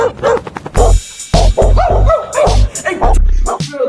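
A dog barks in a rapid run of loud, close yaps and bow-wows, several short bursts packed together at the opening of a satirical talk show.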